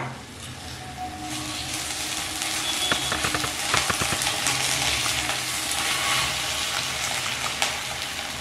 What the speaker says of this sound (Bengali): ঢাকা দিয়ে লো ফ্লেমে আমি 2 মিনিট ধরে এই কাঁচা আম একটু ভেজে নিলাম